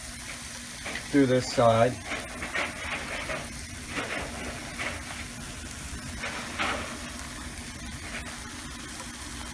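Toast topped with rabbit ragu and melted cheese fries in a pan with a steady soft sizzle and hiss, while someone talks over it and makes a brief scraping clatter as he turns it.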